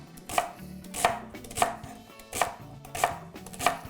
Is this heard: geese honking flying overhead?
no